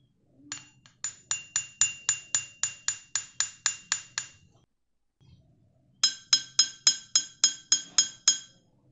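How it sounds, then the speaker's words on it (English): A small drinking glass and a large glass jar are struck in two series of about a dozen evenly spaced ringing clinks each, bright and close, separated by a short silence, with no talk. "We have just heard the sharp sound of a small drinking glass and the low resonant sound of a large glass jar."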